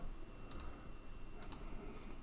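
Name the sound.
computer mouse clicks selecting with lasso tool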